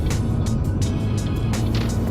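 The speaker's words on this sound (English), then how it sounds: "there's a fair bit of traffic on the road this morning for 7 o'clock" Morning road traffic passes by: a steady, loud engine rumble with repeated tyre hisses as vehicles go past one after another, and no talking.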